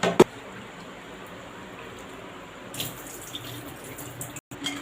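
Rinse water is poured off soaked lentils in a kitchen. A short clank of a vessel comes first, then a soft, continuous splash of running water that swells briefly toward the end.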